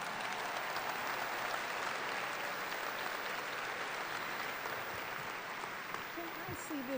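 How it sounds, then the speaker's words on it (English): A crowd at a 2019 Topeka West High School graduation ceremony applauds standing ACT scholars with continuous, dense clapping that holds steady throughout, a faint voice surfacing briefly near the end. "Let's give them an applause."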